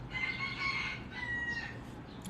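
A rooster crows once with a drawn-out call, followed by a second shorter crow, heard at moderate distance with no talking.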